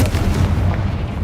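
A Confringo fire spell explodes in Hogwarts Legacy, a dense rumbling burst of blasts with heavy low-end boom that fills the whole moment, loud and close with no talk over it.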